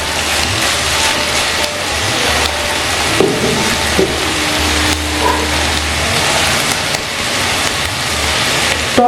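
Vegetables and spices fry in a pan for South Indian sambar dal, giving a steady, dense sizzle with occasional stirring scrapes and clinks throughout.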